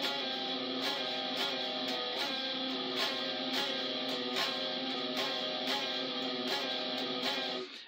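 Distorted electric guitar plays a riff slowly, repeated chugging chords with rhythmic pauses, clear and alone with no talk.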